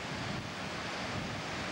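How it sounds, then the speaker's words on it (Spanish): Black Sea waves washing onto the beach at Constanța, a steady broad rush of surf mixed with wind buffeting the microphone, with no voices. "Bien, pues aquí estamos ante el Mar Negro."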